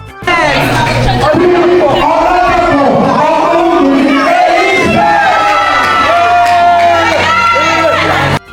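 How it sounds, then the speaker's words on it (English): Pageant audience in Ibadan roaring at a crowning ceremony, loud continuous cheering and shouting with excited voices layered throughout, close and sustained. "The crowd went wild."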